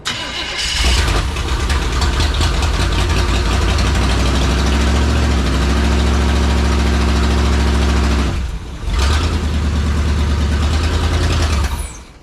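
A truck abandoned in the woods for over a decade runs loudly on a trailer, its engine rumbling steadily, dipping briefly as if nearly stalling, then picking back up before cutting off.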